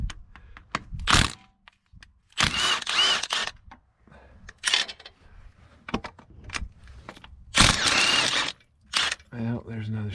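Manifold studs being worked free on a Minneapolis Moline A4T tractor, the old washers welded on, giving sharp metallic cracks, clunks and rattles in scattered bursts at close range, with pauses of quieter handling between them.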